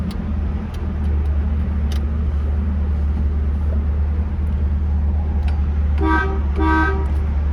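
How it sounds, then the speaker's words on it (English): Two short honks from the horn of a 1964.5 Ford Mustang with a 260 V8 sound close by near the end, after a steady low idle hum. "Nice horn."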